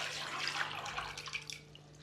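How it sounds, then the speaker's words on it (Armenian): Water pours and splashes into a bowl for a basturma spice paste, a soft, faint, continuous gurgle heard up close. "լցնում ենք ջուրը։"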